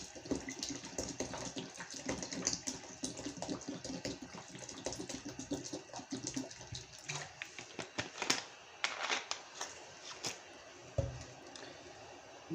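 Water pours and splashes into a pot of homemade vegetable soup, a steady running wash close by with a few clatters and bubbling sounds near the end, no talk over it.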